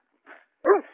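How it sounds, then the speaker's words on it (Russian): A dog lets out two short barks, a faint yip and then a sharper, louder bark, separated by a brief silence and heard alone. "Поберегись! Собаки!"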